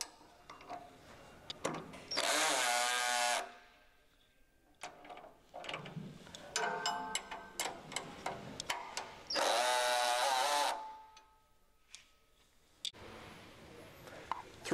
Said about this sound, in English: then we torque the hardware to spec.